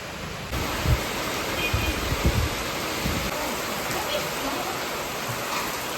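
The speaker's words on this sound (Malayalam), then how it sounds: "നല്ല മഴയായി കാണിക്കും നല്ല മഴയായി" Heavy rain pours down in a steady, dense hiss that fills the whole scene, with a few low thumps near the start.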